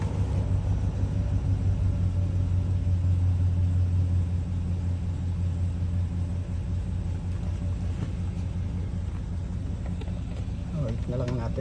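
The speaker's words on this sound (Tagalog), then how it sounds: "Then start the engine." A 2013 Chevrolet Savana van engine runs with a steady, loud, low rumble close by, holding an even idle throughout.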